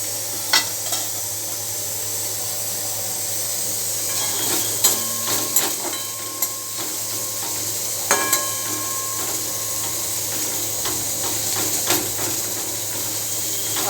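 Chopped ginger frying in hot oil with already-browned onions for a Bombay duck jhuri, a continuous close sizzle punctuated by scattered clinks and scrapes of stirring.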